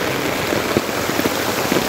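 Heavy rain pours onto a flooded road in a steady, close downpour, with scattered louder drops and splashes breaking through the constant wash. No one speaks.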